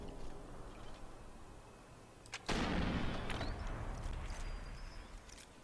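A sniper rifle shot in the video game Sniper Elite 4, a single sharp report with a long rolling echo tail fading over several seconds, fairly loud against quiet game ambience.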